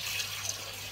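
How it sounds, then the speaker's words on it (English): Cold tap water running into a sink for a rinse while shaving, a brief steady splashing flow, close by and alone. "I'm going to do a cold water rinse."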